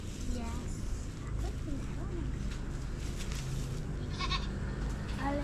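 Goats bleat a few times in a farm setting, short wavering calls rising over a low background rumble, with people talking nearby.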